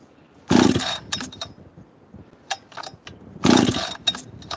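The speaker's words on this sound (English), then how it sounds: "this is what a stock 288 with a muffler mod" A stock Stihl 288 chainsaw with a muffler mod and nearly new stock head gives two short, loud revving bursts about three seconds apart, with quieter idling and small knocks between them.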